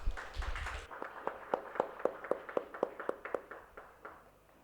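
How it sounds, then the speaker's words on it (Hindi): An audience at a church service claps to welcome a preacher, with a burst of mixed applause giving way to a steady run of distinct rhythmic claps, fairly close and fading toward the end. "तो एक ज़ोरदार तालियों से उनको इनवाइट करते हैं"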